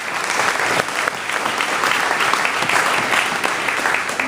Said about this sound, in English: Please give Moms Demand Action a huge round of applause.